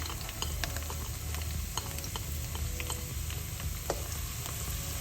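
Finely chopped green onion, white and green parts, frying lightly in oil in a pan, a soft steady sizzle with faint stirring clicks, quiet and close with no talking.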